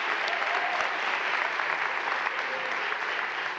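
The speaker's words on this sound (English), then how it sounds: "Could everybody here please commit to applauding the person who makes a contribution?" Applause from an audience fills the room in a steady, dense wash of clapping that runs throughout without pause or break.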